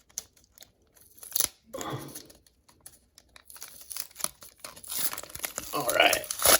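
A taped mail package holding sports cards is torn open by hand. Close, irregular ripping, crinkling and tape-pulling sounds build toward the end, with a person talking briefly in between.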